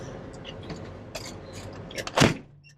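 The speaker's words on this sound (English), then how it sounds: "get the door shut and the truck started" A truck door shuts with one solid thud near the end, after some faint rustling and movement in the cab.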